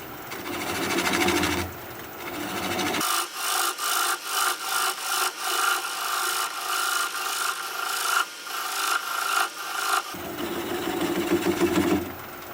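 A 3/8 inch swept-back bowl gouge cuts into a small live-edge wooden bowl spinning on a lathe, giving a loud, close scraping rasp in rhythmic pulses over a steady machine whir.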